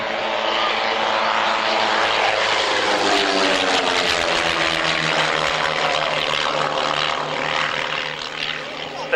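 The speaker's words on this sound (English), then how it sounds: "2 aircraft now rolling in opposite direction, out to the right and left." Propeller aircraft flying in a formation display at the RAF Waddington airshow in 1993 give a loud, steady engine roar with a slowly shifting drone, passing close overhead while a commentator speaks faintly beneath it.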